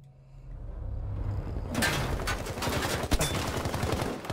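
Battlefield V gunfire breaks out after a quiet start: rapid close bursts and sharp single shots crackle over a dense rumble, with one louder crack near the end.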